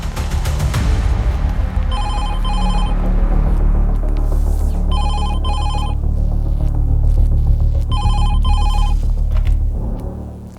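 A telephone rings in three double-burst rings spaced a few seconds apart, over a steady low rumbling hum and background music.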